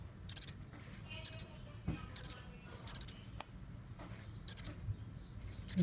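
Baby songbirds being hand-fed give high, thin chirps in short bursts of a few rapid notes, repeated about every second, close and fairly loud over a low background rumble.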